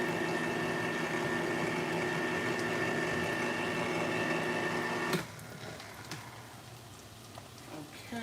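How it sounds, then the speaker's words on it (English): A loud can opener cuts open a can of Manwich in a home kitchen, giving a steady, dense mechanical grinding whir that runs for about five seconds and then stops abruptly, leaving quieter clatter and handling noise. "Excuse the noise because this can opener is loud."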